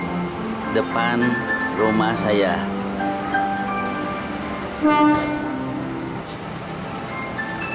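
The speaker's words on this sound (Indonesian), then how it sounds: "Di pagi hari ini ada lalu lalang kereta api yang melintasi" A passenger train runs past in front of a house on the Jakarta–Bandung line in the morning, giving a rising, wavering horn blast and a steady rolling rumble while someone talks over it.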